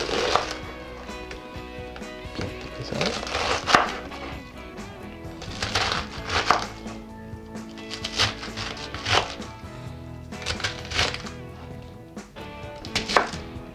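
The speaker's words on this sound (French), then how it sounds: "On va faire de grosses entailles" A knife chops romaine lettuce heart on a cutting board for a Caesar salad, with repeated loud crisp strokes coming in irregular bursts separated by short pauses, close up and with no talking.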